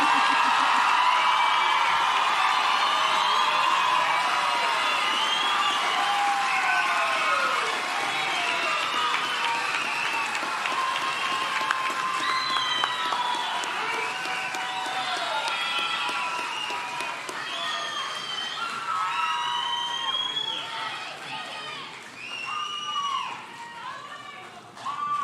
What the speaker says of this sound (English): now you can give him a big round of applause